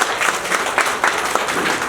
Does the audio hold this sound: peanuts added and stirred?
no